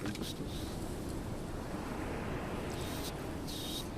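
Strong, steady wind in a VR golf game at a cliffside course, blowing at 23 miles per hour as a continuous low roar with no breaks, moderately loud and heard alone.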